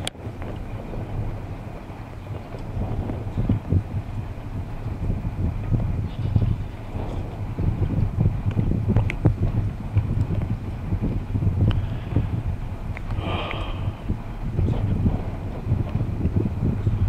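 Gusting wind on a rowing course on the Cooper River, buffeting the microphone as a continuous low rumble that swells and eases, with faint scattered sounds underneath and no talking.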